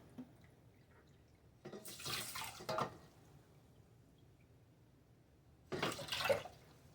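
Water is poured into a pot holding a cup of rice in a home kitchen, two short splashing pours a few seconds apart, close and fairly soft, with no talking.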